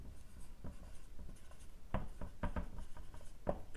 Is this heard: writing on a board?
yes